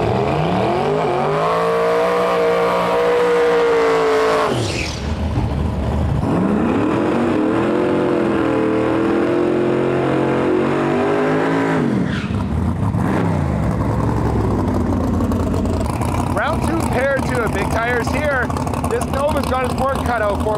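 Street cars at a drag raceway, including a twin-turbo GTO and a Nova, rev loudly and sweep past in long engine roars with shifting pitch, under a track announcer's commentary.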